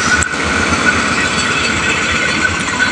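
The Dharma Wangsa passenger train, hauled by locomotive CC 2019212, rolls past as it crosses another train, a loud, steady rumble with clattering wheels and a sharp metallic bang near the start, heard alone with no voices.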